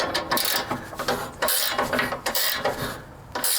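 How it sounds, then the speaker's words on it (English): A 15mm ratcheting wrench turns a tight lock nut on a John Deere lawn tractor mower deck, producing close, rapid ratchet clicks in short bursts separated by brief pauses. "today I'm using a 15mm ratcheting wrench"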